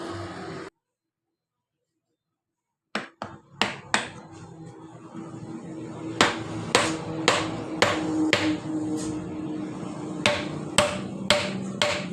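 Repeated sharp taps hammering down wire windings into an electric dynamo coil for a diesel-driven generator, about a dozen close, loud knocks in an uneven rhythm after a brief silence.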